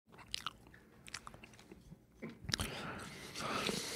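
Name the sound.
chewing gum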